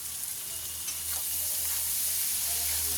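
Chopped onion sizzles and fries in hot oil with dried red chilli in a home kitchen pan, a steady, close, dense hiss throughout with faint stirring scrapes.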